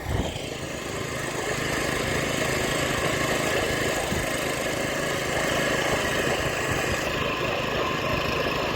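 A tractor engine runs steadily nearby in a rice-planting field, a constant mechanical drone with a faint rattle, holding an even level throughout.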